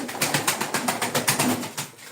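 Pigeons cooing and rustling in a loft, a steady run of soft pulsing calls and flutters, fairly close, with no talking.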